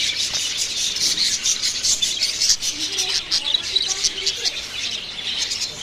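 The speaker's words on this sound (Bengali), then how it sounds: "এটা হচ্ছে বাজারিকা পাখি এই যে" Budgerigars chirp in a dense, continuous high chatter at a pet bird shop, loud and close, with brief lower calls mixed in and no speech over them.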